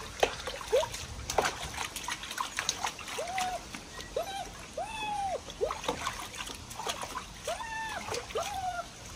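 A German shepherd puppy is lowered into water, bringing irregular splashes and trickles near at hand while whimpering yelps and a voice sound over the wet sloshing.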